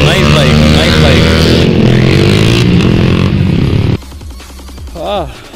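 A motorcycle roars loudly and close while popping a wheelie, its engine revving high and then dropping off, with people talking and cheering over it.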